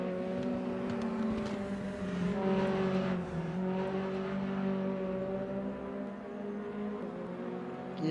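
A race car in a sim racing league event at Mid Ohio drones steadily, its engine tone holding and then easing as the driver lifts off the throttle, a continuous mid-level whine without talk.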